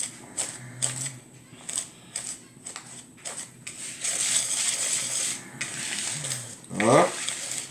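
A whisk or spoon clatters against a bowl while coconut banana cake batter is mixed, giving irregular scraping taps and a longer stirring swirl near the end, with brief kitchen noises between.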